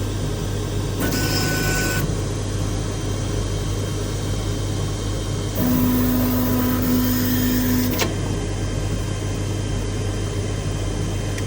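A steady mechanical hum and whir of an Anycubic Kobra S1 3D printer runs throughout, with brief higher-pitched motor whines rising over the constant drone.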